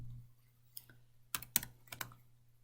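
Values being typed on a computer keyboard, a few crisp key taps in short bursts over a low steady hum, close and quiet, with no talking.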